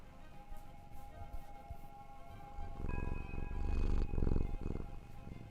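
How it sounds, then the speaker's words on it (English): A cat purring close by, rhythmic rumbling pulses rising and falling in waves over a faint tonal background hum, growing stronger in the second half. "Can you guys hear the purring?"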